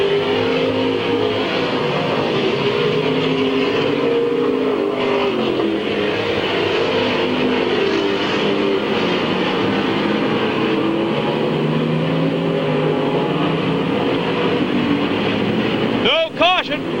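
A pack of stock cars races around Midvale Speedway, a dense continuous roar of engines rising and falling as they pass, with a commentator talking over the noise throughout.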